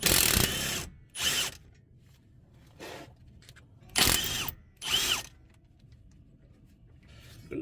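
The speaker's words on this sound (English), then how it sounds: "I'm going to take out this bolt right here" Power tool bursts removing a brake caliper bolt on a 2018 car during a pad replacement: four short whirring runs, the first and two later ones loudest, separated by quieter gaps with faint rattling, close by and with no talking.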